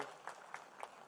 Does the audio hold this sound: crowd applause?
yes